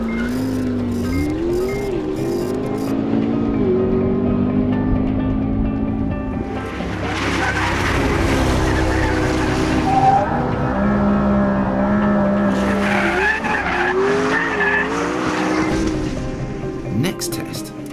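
A McLaren P1 braking hard from high speed: a high-revving engine note drops away, then a loud tyre skid rasps, with a second rough burst later as the car slows, while someone talks throughout.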